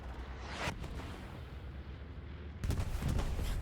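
Bombing-run explosions in the World War II shooter Hell Let Loose, on the Remagen map at night: deep booming blasts rumble throughout, with a sharp burst near the start and a heavier, louder cluster of impacts toward the end.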